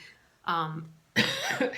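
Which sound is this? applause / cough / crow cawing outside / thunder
cough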